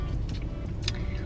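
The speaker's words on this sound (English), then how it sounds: "I'm stuck in a traffic jam." Steady low rumble of idling and creeping car traffic in a jam heading onto a freeway link, continuous engine noise heard from inside a vehicle with a few faint higher clunks.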